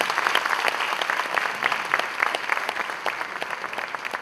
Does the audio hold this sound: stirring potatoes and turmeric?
no